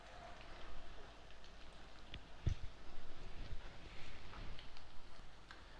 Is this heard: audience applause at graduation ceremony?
no